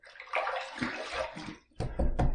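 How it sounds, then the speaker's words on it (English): Water splashes in quick bursts at a sink during a wet shave with a safety razor, one longer run of splashing and then two sharp splashes, close and fairly loud. "Another quick splash."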